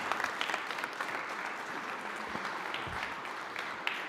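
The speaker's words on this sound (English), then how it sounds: "please give him a round of applause" Applause from a congregation at a Sunday church service, a continuous, fairly distant round of clapping with faint crowd murmur beneath.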